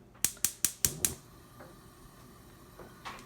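A stove burner ignition gives five quick, sharp clicks in an even rhythm before the gas catches. Faint soft rustles follow, close and fairly loud at first, with no speech.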